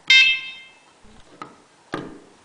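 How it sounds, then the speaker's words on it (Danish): A NemAlarm wireless alarm with a vibration sensor and a 9-volt battery gives a loud electronic beep as it is switched on, followed by fainter clicks and then a second shorter beep, close to the microphone. "og den giver en lille bip."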